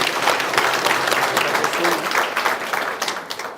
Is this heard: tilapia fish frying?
no